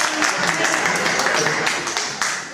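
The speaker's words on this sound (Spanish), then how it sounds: "¡Un aplauso para Mari Carmen!" A short burst of dense applause from a crowd at a comic book presentation, loud and continuous, fading slightly toward the end.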